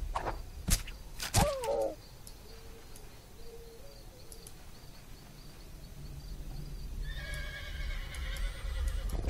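A horse in the video game Sacred whinnies loudly near the start, followed by steady hoofbeats over a soft background of insect-like chirping.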